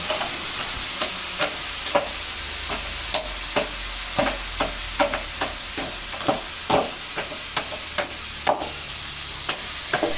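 Cumin, bay leaf, dried chilli, tomato and chopped capsicum tempering in hot oil in a wok for moong dal: a steady close sizzle broken by regular sharp spatula scrapes and clicks, with no voices.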